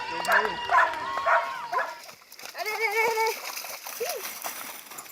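A dog splashes and wades in water to cool its paws after a canicross race, with yips and whimpers close by while people talk over it.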